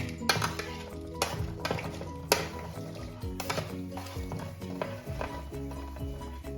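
Sliced onions hitting a hot pan for prawn theeyal, with metallic stirring and clinking of a utensil against the pan over a low frying sizzle, in repeated irregular scrapes.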